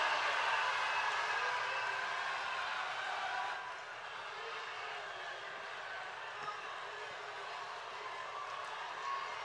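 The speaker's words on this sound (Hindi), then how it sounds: "आप सबकी जोरदार तालियों के साथ" A large crowd at a public rally in Varanasi applauds in a dense, steady roar that stays loud for several seconds, then eases to a slightly softer, sustained clapping.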